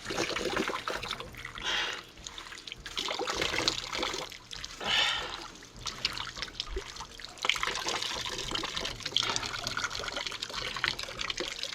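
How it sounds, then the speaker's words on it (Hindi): Cold spring water trickles and splashes steadily in a dense mountain forest on the Roopkund trek, a continuous close-up wash of running water with no voices. "पानी की आवाज़ आ रही है।"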